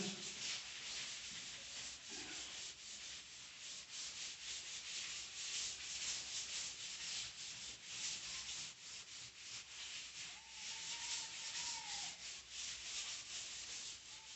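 Writing is rubbed off a classroom board, a steady close scrubbing with rhythmic back-and-forth strokes continuing without a break, quiet overall.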